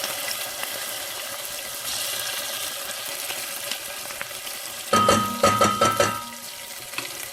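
Garlic fries in oil on a gas stove with a steady hissing sizzle, and a few sharp clinks and knocks land together near the end, close and without talking.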